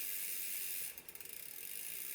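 A Reynolds wheel freehub ratchet ticks in a rapid run of quiet clicks while coasting, heard close against a steady hiss with no talking.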